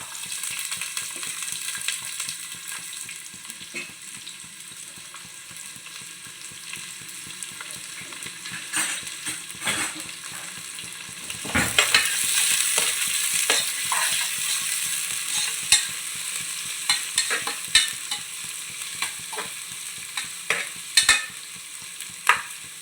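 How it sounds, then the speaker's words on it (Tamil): Onions frying in a pan with cinnamon sticks, cardamom pods and cloves, a steady soft sizzle throughout with occasional louder crackles and stirring clicks, no talking. "இந்த வெங்காயம் வந்து கொஞ்சம் பொன்னிறமாக ஆகட்டும்."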